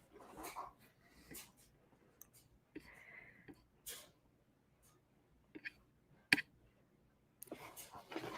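Sleeping dogs give small whimpers, hiccup-like snorts and faint clicks in short, scattered bursts separated by quiet, with a brief human voice in between.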